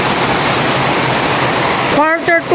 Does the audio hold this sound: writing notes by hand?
no